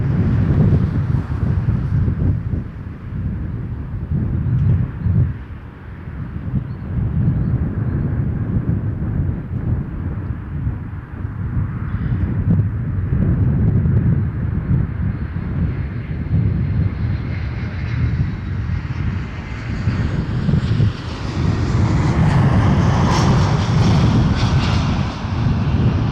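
A Jazz airliner takes off from runway 05 at Toronto Pearson, a sustained loud engine roar with wind buffeting the microphone, swelling slightly toward the end.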